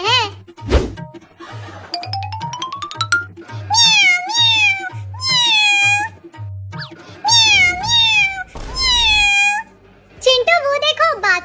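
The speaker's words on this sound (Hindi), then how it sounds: "यहाँ पर तो एक ही बिल्ली का बच्चा है।" A single kitten meows repeatedly in bright, wavering cries over a steady rhythmic backing, with a few rapid squeaky calls toward the end. The cries are loud and close, and voices may be mixed in.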